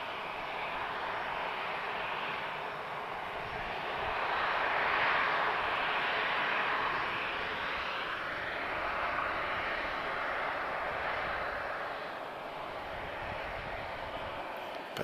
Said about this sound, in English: Got another 737 pushing back, guys, so another departure in just a second.